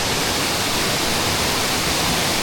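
A waterfall on a steelhead river roars as a dense, continuous rush of broadband white water, loud and close, with no voices.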